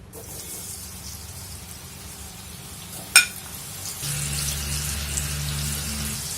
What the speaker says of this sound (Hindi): अब तलेंगे हम ये चने।